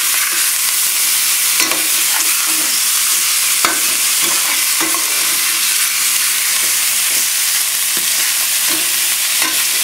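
Beef browning in a pot over high heat for a stew, giving a loud, constant sizzling hiss with occasional scraping bursts from stirring, no voices.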